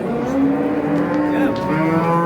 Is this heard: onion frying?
no